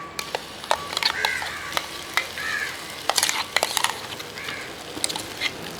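Spice powders being stirred into a hot pan for a cauliflower and chickpea masala curry, with scattered scraping clicks and light sizzling over a quiet background, and no voices.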